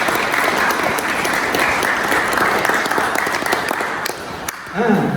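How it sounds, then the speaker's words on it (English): Audience applause at an awards presentation honouring an Order of Excellence recipient, a steady dense clapping that fills the room for about five seconds before thinning out as a voice begins at the end. "I think we should give him a round of applause"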